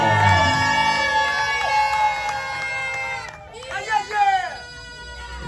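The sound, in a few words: wedding guests cheering and acclaiming the couple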